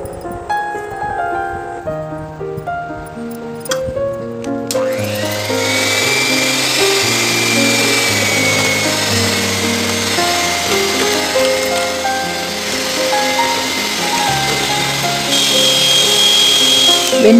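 Electric beater whipping cream with powdered sugar and vanilla essence at home, a steady high motor whine that starts after a few seconds and runs loud and continuous throughout, over background music.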